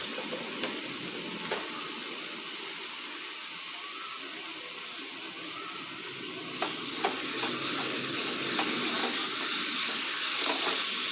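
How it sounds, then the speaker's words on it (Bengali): Ridge gourd peel paste with salt and turmeric fries in a pan, giving a steady hiss and sizzle with occasional scraping clicks from stirring, growing slightly louder toward the end. "এবার ভালো করে এটাকে নাড়বো"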